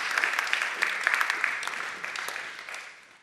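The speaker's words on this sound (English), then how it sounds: "A round of applause again for our main speaker." An audience at a religious talk applauds the main speaker, with dense, crisp clapping that starts strong and gradually fades toward the end.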